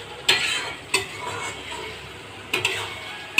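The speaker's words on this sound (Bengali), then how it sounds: "এবার তারপরে কীরকমভাবে নেড়ে নেড়ে মাছটা হয়ে যাবে" Bombay duck (loitta) fish stirred and fried dry in a pan without any water: a soft, steady sizzle broken by four sharp scraping knocks of the spatula, spaced unevenly.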